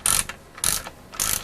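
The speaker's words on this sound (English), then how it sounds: "I'm just on with tightening the small 13mm nuts up" A ratchet tightens small 13mm nuts on the rear axle of a classic Ford during restoration. It gives three close, crisp bursts of rapid clicking, separated by short pauses.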